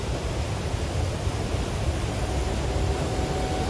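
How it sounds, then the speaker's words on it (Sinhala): Strong, rain-swollen river water rushing through Martvili canyon in Georgia, a dense, steady roar heard from above with no pauses. "වතුර මේ සැර වැඩි සද්දෙත් ඇහෙනවා මෙහෙට උඩට."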